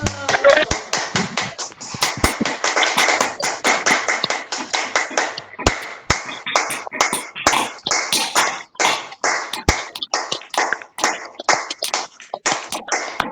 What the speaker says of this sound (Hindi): और झूमते हुए अपने लिए बजाए तालियां